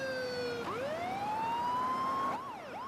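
An emergency vehicle siren wails continuously with rising and falling sweeps, shifting to a faster yelp near the end, heard at moderate distance and fairly faint.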